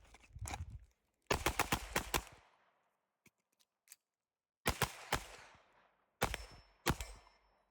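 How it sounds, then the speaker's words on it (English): Rapid bursts of gunshots from a Springfield Prodigy pistol fitted with a DSCGUNWORKS 4.25 comped barrel, several quick strings of sharp, loud cracks separated by short pauses, with faint handling clicks in between. "Get some initial shots."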